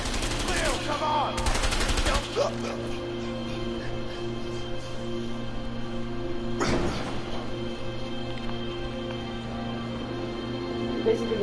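Bursts of gunfire in the video game A Way Out, a dense rapid volley early on followed by a single sharp shot later, over a steady game background hum.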